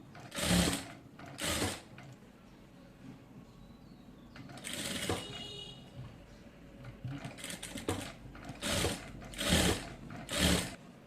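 Sewing machine stitching a neck design on fabric, running in several short rapid bursts of mechanical clatter separated by pauses with faint handling sounds, close and fairly loud.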